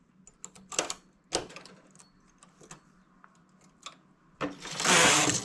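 A knitting machine carriage knits a row across the needle bed, giving a series of mechanical clacks and rattles with a longer, louder sliding rush near the end, close by with no talk.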